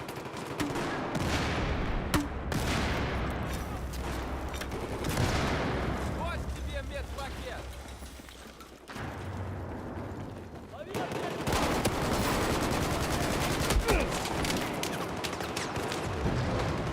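Dense gunfire from Battlefield 4 online multiplayer fills the scene, with rapid automatic bursts and heavy booms, loud and nearly continuous, broken by a short lull midway.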